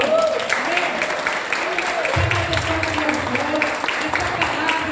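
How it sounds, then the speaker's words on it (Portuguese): Church congregation applauding, a steady dense wash of clapping filling the room, with some tonal voices or music carrying underneath throughout. "Você pode aplaudir o Senhor?"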